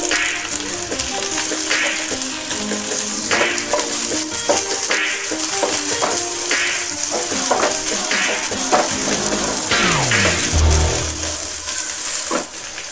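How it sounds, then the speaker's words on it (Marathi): Cumin and onion fry in hot ghee for dal khichdi, making a loud, close, steady sizzle with metallic spoon scrapes and clinks against the pan as the mixture is stirred. "तूप चांगले गरम झाले की लगेच आपण जिरे टाकूया। जिरे चांगले फुलले की लगेच कांदा टाकूया।"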